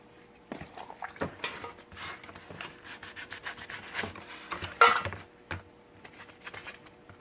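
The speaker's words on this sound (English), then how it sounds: "now we're going to go back in and start sanding and buffing" Hand sanding on a 1967 GTO car part, with close, uneven rubbing strokes in short bursts and one sharper scrape near the middle.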